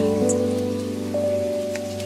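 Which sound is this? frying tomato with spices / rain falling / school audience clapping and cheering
rain falling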